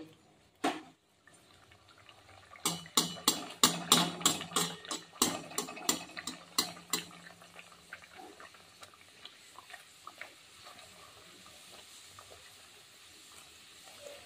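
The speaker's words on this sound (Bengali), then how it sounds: "তেলটা গরম হয়ে গেছে, দেখেই বুঝতে পারছো বাবলস উঠছে। একটা করে কচুরি আমি এখন এর মধ্যে দিয়ে দেবো।" Kachori fries in hot oil, a rush of bubbling crackle with sharp pops that fades to a soft, steady low sizzle, with no voices.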